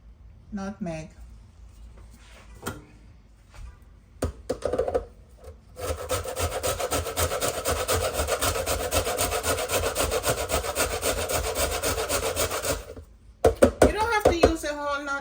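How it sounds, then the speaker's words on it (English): Whole nutmeg scraped on a hand grater while making a seamoss drink with almond milk, a steady close rasping that runs for several seconds after some brief knocks and soft speech, then stops. "And then I'm going to grate my nutmeg."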